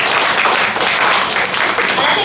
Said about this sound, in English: Can we have a round of applause for the moderators?